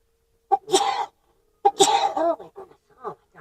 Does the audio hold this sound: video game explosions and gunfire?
no